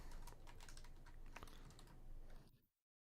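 Rapid, close keyboard clatter fills a few seconds as someone types on a computer keyboard, a dense run of key taps that stops abruptly into silence.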